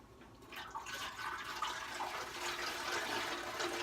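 Distilled water sloshing and swishing inside a metal motorcycle gas tank during rust cleaning, a steady close watery churning that continues throughout without pause.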